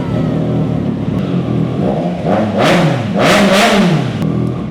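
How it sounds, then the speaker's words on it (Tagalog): An inline-three motorcycle engine idles roughly, then blips the throttle in a few quick revs that rise and fall, close and fairly loud. "agad-agad i-sound check na natin kung ano ba yung tunog ng engine ito"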